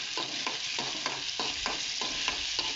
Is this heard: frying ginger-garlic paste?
yes